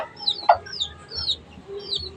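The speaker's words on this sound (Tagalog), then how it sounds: "kaya nakanta lang yung mga manok ko dito" Chickens cluck nearby in short, repeated calls, with a sharper squawk near the start.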